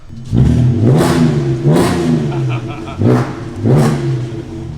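A loud Audi A3 VR6 engine with its muffler deleted revs hard several times in quick succession, each blip roaring up and falling back, close by with voices mixed in.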